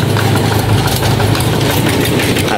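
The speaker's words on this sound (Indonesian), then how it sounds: "ini pagi ini banyak traktor yang akan berangkat ke sawah." Several farm tractor engines idling in the morning before heading out to rice fields, a steady loud low diesel rumble and chug that continues without a break, close by.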